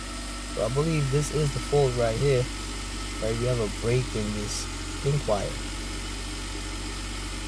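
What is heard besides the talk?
car engine idling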